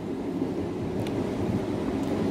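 A suburban electric train pulls away from the Serp i Molot platform in Moscow on an autumn day, a steady low rumble of wheels and motors heard at moderate distance with no voices.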